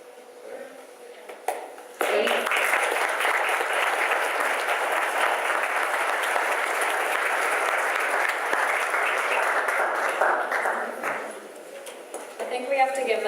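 Audience at an on-stage business event breaks into sustained applause that starts abruptly, holds loud and dense for several seconds, then fades, with quieter room sound before and after.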